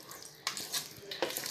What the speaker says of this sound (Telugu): సో ఇందులో వేసేసుకున్నానండి నేను తాలింపు